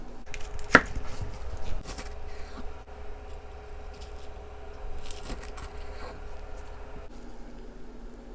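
A knife chops the white parts of green onions on a cutting board, giving a quiet series of irregular taps and scrapes.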